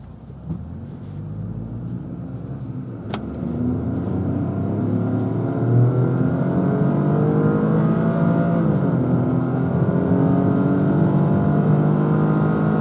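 A 2025 Toyota GR Corolla's 300-horsepower engine revs up and accelerates hard uphill in track mode, its roar building steadily and holding strong, with rising and shifting tones as it pulls through the gears.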